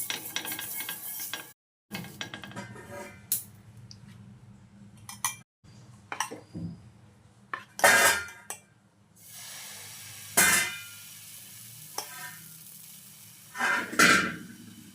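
Oil poured with a piece of onion over a hot dosa pan gives a soft sizzle broken by scraping and clinking of a utensil against the pan, in several short bursts with no one talking.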